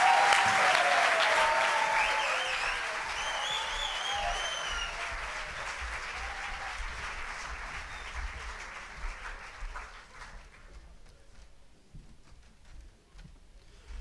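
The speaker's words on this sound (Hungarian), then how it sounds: "És most nagy tapssal fogadjuk nagy szeretettel az Amarod" Audience applause breaks out loud and dense with a few whistles and cheers, then thins and slowly fades over about fourteen seconds until only scattered claps remain.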